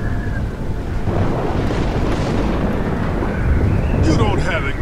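Heavy thunderstorm from The Walking Dead PC game, episode two Starved For Help: a loud, continuous roar of rain and rumbling thunder filling the whole stretch, with a brighter crackle toward the end.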